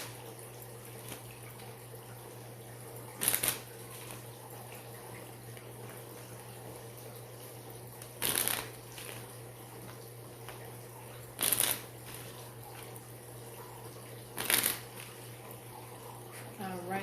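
Tarot cards are shuffled in four short riffling bursts, spaced several seconds apart over a steady low hum, with quiet room noise in between.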